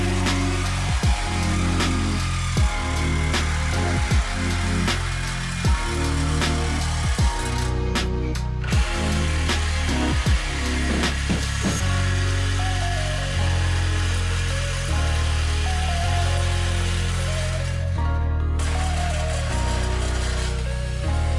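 A power tool cutting through the muffler exhaust on a BMW 335i, a loud continuous buzzing grind with repeated pauses and restarts throughout, close up and with no talking.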